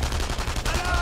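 Gunfire from the World War II shooter Enemy Front crackles in a quick burst of sharp, loud shots across a short stretch of game battle noise.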